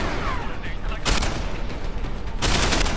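Heavy, rapid gunfire rings out in the video game Deus Ex as two loud, crackling bursts stand out over a constant barrage of shooting and noise.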